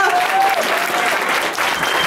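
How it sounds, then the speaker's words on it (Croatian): An audience claps loudly and continuously in a Zagreb club during a band's performance, with a few voices mixed into the applause. "Ja mislim da bi sad svi skupa trebali jako pljeskati"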